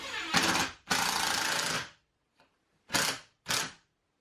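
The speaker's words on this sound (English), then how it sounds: "Just got some 2-inch screws I'm going to use here to get this installed." A power driver sinking 2-inch screws to fasten wooden trim in a workshop, heard as two long whirring bursts and then two short ones, close and fairly loud, with quiet gaps between.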